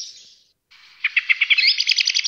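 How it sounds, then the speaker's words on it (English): A blackbird sings a bright, rapid series of clear chirps and warbling trills outdoors, starting softly, pausing, then building into a loud, rhythmic run of repeated notes with no talking. "It's a blackbird, of course."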